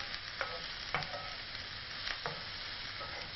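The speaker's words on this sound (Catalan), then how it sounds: "Un poquet de ceba i ara n'està sofregideta i posarem la carn" Onion and minced meat frying in a pan for an aubergine cannelloni filling, a steady close sizzle broken by several sharp scrapes and clicks of a utensil stirring.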